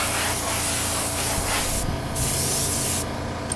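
A spray gun hisses steadily as it paints a Kawasaki motorcycle wheel inside a paint booth, one continuous close spray with a couple of brief dips in pressure.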